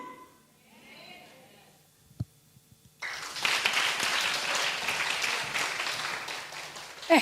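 A church congregation bursts into loud, sustained applause, the clapping starting suddenly after a quieter stretch of low murmuring and a single sharp knock, then holding dense and close until the end.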